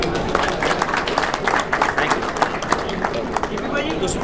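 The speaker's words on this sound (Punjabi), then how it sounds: "ਸਾਰਿਆਂ ਲਈ ਤਾੜੀ ਲਾ ਦਿਓ" An audience applauds at a Punjabi film event for the movie Akaal, with dense, steady clapping filling the room and voices chattering underneath.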